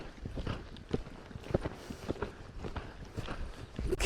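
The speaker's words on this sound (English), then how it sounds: "Okay, I'm going to ask her to canter." A horse canters during a riding lesson, its hooves giving soft, rhythmic muffled thuds at a fairly faint, steady pace against a low background rumble.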